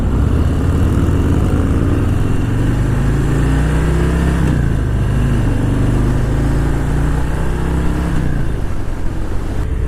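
A 2018 Harley-Davidson Breakout motorcycle decelerates under engine braking, its loud, close exhaust rumble droning steadily with a gently falling pitch, mixed with wind noise.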